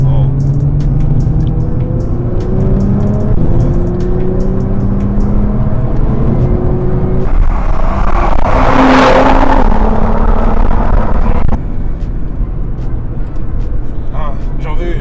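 Inside a Nissan GT-R R35, the engine hums steadily, then swells into a loud accelerating roar for several seconds before settling back, with people talking over it.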